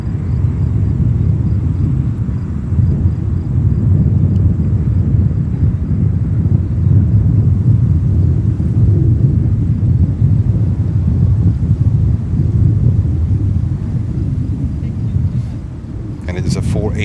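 Boeing 747 jet at JFK airport, a heavy, sustained low roar of engines rumbling steadily with wind-like buffeting throughout, no other sounds standing out.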